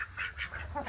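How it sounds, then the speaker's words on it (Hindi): Ducks quack while drinking water, their short nasal calls repeating in close, fairly steady bursts with no talk over them. "ये सारी बतखें"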